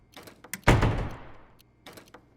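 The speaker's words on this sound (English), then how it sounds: "Bud, don't slam the door" A door slammed shut as a radio drama sound effect: a sharp, loud wooden bang with a long ringing decay, framed by lighter rattles and clicks before and after, with no voices.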